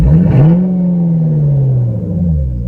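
An all-stock 2007 Ford Shelby GT500 engine revs loudly and close, with a quick rise in pitch followed by a sustained throaty drone that slowly eases off.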